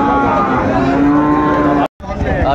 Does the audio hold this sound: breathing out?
no